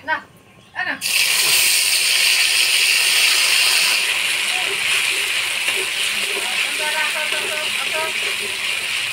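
A loud, steady sizzle bursts up as ground spice paste of coriander, cumin and ginger hits hot oil already fried with whole garam masala, bay leaves and dried chilies, hissing on continuously while someone talks over it.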